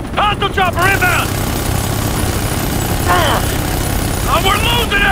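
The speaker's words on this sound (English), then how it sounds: "Hostile chopper inbound!" A steady low helicopter rotor rumble in Ghost Recon: Future Soldier fills the background throughout, with excited voices shouting over it in bursts.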